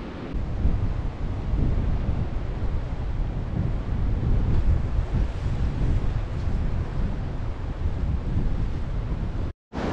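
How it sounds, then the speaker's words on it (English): Ocean surf breaks against a rocky shelf beside a tarp camp, a continuous loud wash of waves mixed with heavy wind buffeting on the microphone, no voices. "we're just going to watch these waves, make sure they're not coming up over here"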